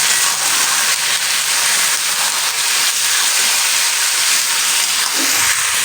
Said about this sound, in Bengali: এবারে এর মধ্যে আমি দিয়ে দিব এই মাটনগুলো